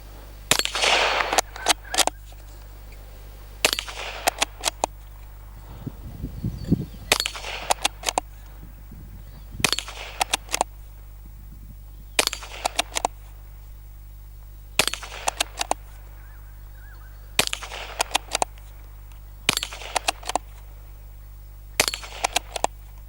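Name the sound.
22 rimfire gunshots plinking at targets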